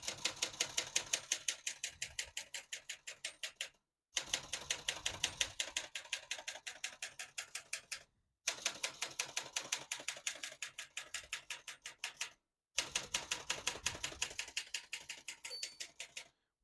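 Rapid keystrokes on a 1960 Olympia Splendid 33 manual portable typewriter in four steady runs, each broken by a brief pause, close and crisp with no voices.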